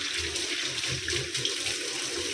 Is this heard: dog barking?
no